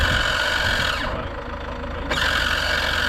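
Range Rover engine running steadily while reversing with a trailer in tow, a continuous mid-pitched idle rumble that dips briefly in the middle and then returns.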